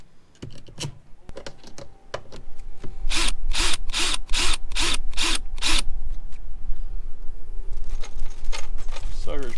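A power driver runs screws into a Honda outboard throttle box, with a series of loud, close, evenly spaced whirring bursts over a steady background. A person talks in the clip.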